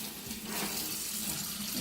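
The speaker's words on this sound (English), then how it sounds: "wash that jar with the hot soapy water" Glass jar being washed in hot soapy water at a sink, with a steady, close rush of running tap water and faint splashing and rubbing throughout, no voices.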